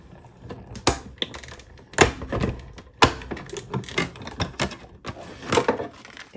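A tabletop die-cutting machine cranks a layered paper card and plate through for a partial die cut, making a run of close, uneven clicks and wooden thunks with a few heavier knocks.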